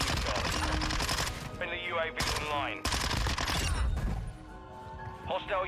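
Rapid bursts of automatic gunfire in Modern Warfare 2 Ground War, loud and close, with short pauses between volleys and a player talking over the shooting.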